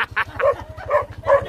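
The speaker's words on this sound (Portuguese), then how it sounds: "E Siriri já tá esperando no latido já" A dog barks several times in quick succession, fairly close, over a low rhythmic pulsing hum.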